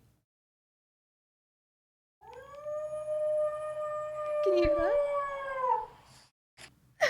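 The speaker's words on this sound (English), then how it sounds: "do you want to hear my dog howling?" A pet dog in a new apartment lets out one long, sustained howl that wavers in pitch for several seconds, heard close and clear; a voice speaks briefly at the very end.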